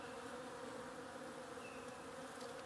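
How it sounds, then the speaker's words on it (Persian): Bees at a wild honey hive in a tall tree make a steady, dense buzzing drone that holds evenly throughout, faint and at some distance, with no voices. "من یک کندوی عسل پیدا کردم."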